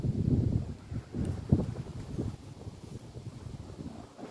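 Gusty wind buffets the microphone outdoors at a rifle shooting range, a low rumbling roar that swells and eases in uneven pulses with no other clear sounds.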